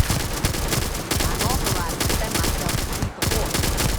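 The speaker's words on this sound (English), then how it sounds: "Open fire." Rapid gunfire fills a firefight in the Starfield video game. Dense bursts of automatic shots come close and loud, with a brief pause near the three-second mark before the volley resumes.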